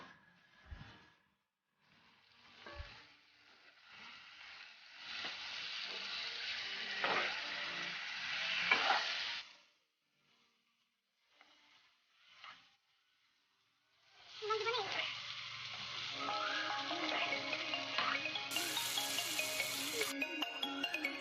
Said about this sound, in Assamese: মাংসখিনি দি লৈ ভালকৈ লৰাই ল'লোঁ।